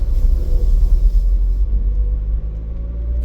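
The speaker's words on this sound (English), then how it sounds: "I'm at idle in second gear." A car's engine idles in second gear on a slow drive near Mt Lofty lookout and the Adelaide coastline, a steady deep rumble that holds close and constant throughout with no talk over it.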